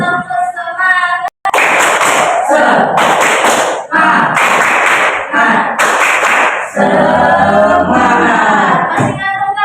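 Classroom group of pupils doing a rhythmic tepuk semangat clapping cheer, loud and close, with bursts of claps in a patterned rhythm and chanted voices over and between them.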